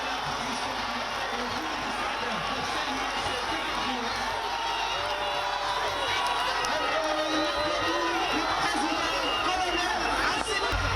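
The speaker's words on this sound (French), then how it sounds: "Quand le président annonce de bonnes nouvelles, des populations applaudissent." Stadium crowd in Kayes, Mali, at a public gathering, a continuous dense hubbub of voices, chatter and scattered cheers and whoops, fairly distant and steady throughout.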